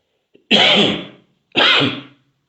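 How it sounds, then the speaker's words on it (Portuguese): Two loud, harsh bursts about a second apart, each an explosive, breathy allergy cough from a man, with no other sound around them. "desculpa a minha tosse aqui, tenho tido muita alergia ultimamente."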